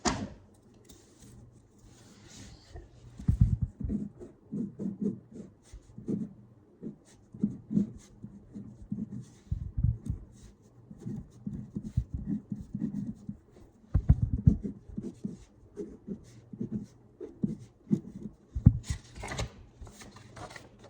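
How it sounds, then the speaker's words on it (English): A marker writes a label on a classroom Earth layers model, soft scratchy strokes in short bursts with pauses, close and fairly quiet. "we are going to write layers of the earth. This is our label for our model."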